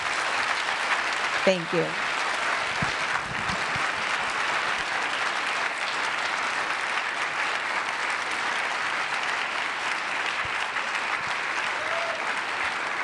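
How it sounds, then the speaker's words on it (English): An audience at a lecture on faith and truth claps loudly and steadily in gratitude for a speaker, sustained for more than ten seconds. A brief spoken voice is heard near the start. "So we're going to pay her now by clapping very loudly in gratitude."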